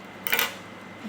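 Scissors snip through paracord strands on a handmade Marge Simpson keyring: one short, crisp cut close by, with a brief metallic click and nothing else around it.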